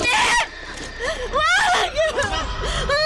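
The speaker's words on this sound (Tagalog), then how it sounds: "Malayo pa ako, narinig ko nang sumisigaw ka." A woman screams in a Filipino horror drama, her high, wavering cries rising and falling loudly and close over about three seconds, mixed with strained, sobbing vocal sounds and little else.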